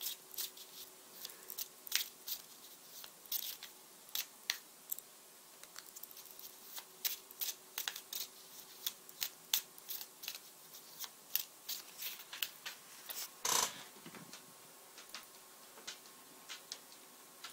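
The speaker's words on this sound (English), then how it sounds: "very quickly I'm going to pick clarifying cards" Cards shuffled before clarifying cards are drawn for a reading, a quiet, close series of irregular light ticks and flicks spread across the whole stretch, with one sharper slap partway through.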